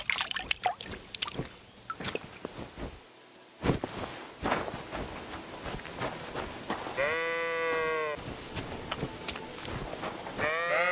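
Sheep in Kingdom Come: Deliverance 2 bleat in a short wavering call partway through, set among scattered game sounds, footsteps and clatter, with no talk.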